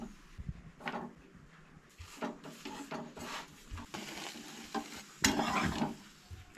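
Aloo paratha roasting on a griddle: quiet, uneven scrapes and presses of a spatula, with short bursts of soft sizzle as the flatbread is turned and pressed down.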